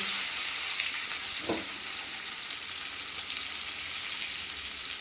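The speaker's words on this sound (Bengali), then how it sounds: "এবার আমি দেখো তেলে পেঁয়াজ কুচি দিয়ে দেবো" Chopped onions sizzle in hot oil in a pan, a steady close bright hiss throughout with one faint clink early on.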